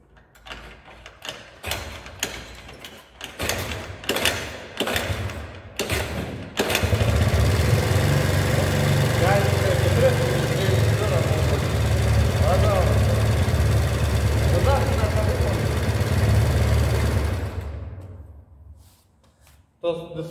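Horse 051 scooter engine, running after a kickstarter repair, starts after several loud kick strokes and settles into a steady, close, buzzing idle before cutting off near the end.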